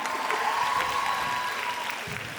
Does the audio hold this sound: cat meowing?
no